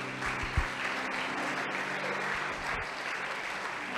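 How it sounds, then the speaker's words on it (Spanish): A church congregation applauds the Lord during a sermon, a steady wash of clapping that holds at an even level throughout, with faint low background sounds beneath. "va a aplaudirle al Señor, apláudale para que suavice"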